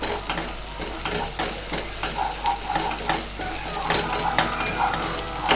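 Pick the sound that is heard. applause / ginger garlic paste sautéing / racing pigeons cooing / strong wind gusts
ginger garlic paste sautéing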